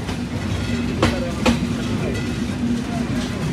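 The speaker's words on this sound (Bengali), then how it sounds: "ট্রেনটি নতুন চাইনিজ CRRC কোচে চলাচল করছে" Dhumketu Express running from Dhaka to Rajshahi on new Chinese CRRC coaches: a steady rumble of the moving train with a sustained tone and a couple of sharp rail clicks, and voices murmur in the background.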